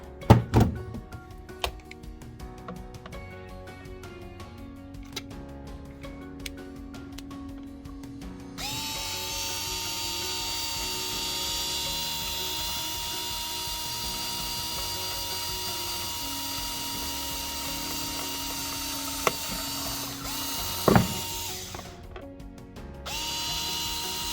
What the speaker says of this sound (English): I have my drill here that we'll use to drill 2 holes for the LEDs to pop out